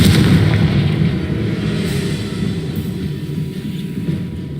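A Confringo fire spell is cast in the Hogwarts Legacy video game, producing a loud, rumbling blast that carries on as a heavy roar and slowly eases off.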